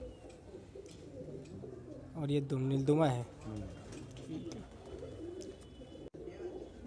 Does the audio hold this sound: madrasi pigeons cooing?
yes